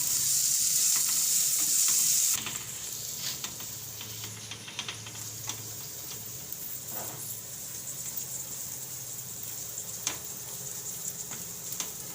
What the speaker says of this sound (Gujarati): હવે આપણે આમાં ડુંગળી નાખી દેવું. આને આપણે સેજ લાલ જેવી થવા દેવું.